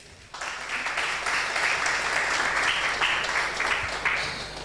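Applause from a church congregation at a Sunday service, starting suddenly and holding as a full, even wash of many hands before easing slightly.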